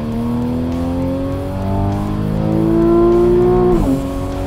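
The 3.8-liter flat-six boxer engine of a Porsche 911 Carrera S revs hard, pitch climbing steadily to a loud peak before dropping sharply near the end, close and alone with no talk.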